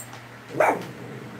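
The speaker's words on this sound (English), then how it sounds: "Sorry if you hear barking." A single short dog bark, muffled and somewhat distant, rising briefly out of a quiet room.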